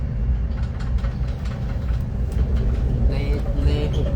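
Passenger train ride through Thai countryside, heard from inside the carriage: a steady low rumble and clatter of wheels on rails runs throughout, with a few higher squeaks near the end.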